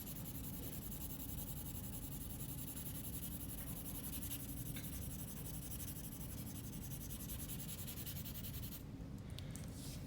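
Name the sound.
marker drawing over pencil lines on paper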